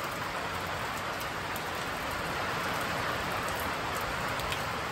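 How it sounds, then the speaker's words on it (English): Steady rain pours down outdoors while someone walks through it, a dense, even hiss of falling drops with no talk. "I'm officially walking in the rain"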